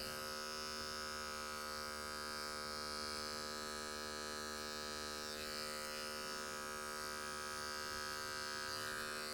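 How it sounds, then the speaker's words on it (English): An adjustable electric hair clipper at its longest setting runs on a haircut, a constant, tonal motor buzz with bright harmonics, steady and close, with slight shifts as it moves through hair. "It's the longest setting for the adjustable clipper"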